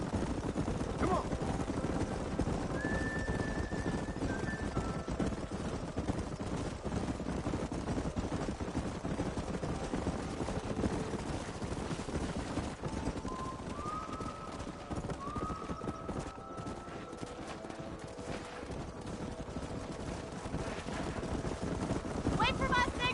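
Horses in the Red Dead Redemption video game gallop with steady clip-clop hoofbeats and occasional whinnies through the whole stretch, mixed with game music and speech.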